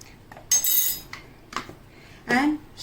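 A spoon clinks against a bowl while semolina and spices go into atta dosa batter: a few brief, close metallic taps spread over a couple of seconds, with no clear speech.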